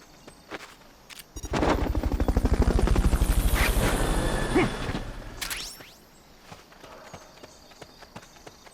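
A helicopter rotor in Metal Gear chops loudly in a rapid, steady rhythm for a few seconds, then fades out, leaving quiet background.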